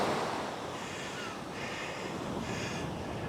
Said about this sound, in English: Down here on the beach, absolutely gorgeous.